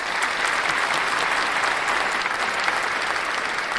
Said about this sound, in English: Let's give that a clap as well.